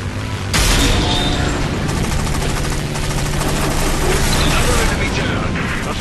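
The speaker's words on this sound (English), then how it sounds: "Taking heavy fire!" Heavy machine-gun fire in the War Wings aerial combat game involving a DH-82 Tiger Moth, a dense, loud rattling burst running almost continuously over an engine drone, with a voice speaking over it.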